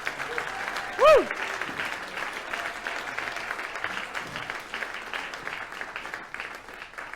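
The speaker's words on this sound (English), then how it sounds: "A round of applause, more applause." A TEDx audience at Venice Beach applauds steadily in a large hall, a single loud whoop rising briefly above the sustained clapping.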